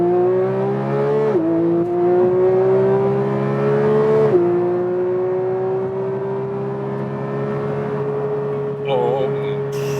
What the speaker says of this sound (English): There's less sound dampening, so you hear more of the engine